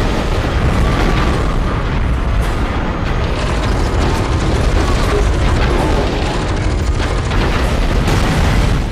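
Grenade explosions in the shooter game F.E.A.R. 2 come as loud, dense booms and blasts layered with combat clatter, sustained and heavy throughout.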